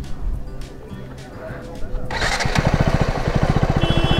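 An engine cranks and catches, then settles into a fast, even putter of firing pulses that grows louder and steadier over the last couple of seconds.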